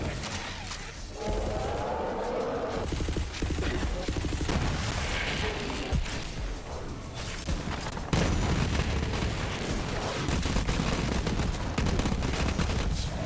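Rapid gunfire bursts from a first-person shooter game featuring the character Amara, forming dense continuous volleys with heavy low booms that run on without pause.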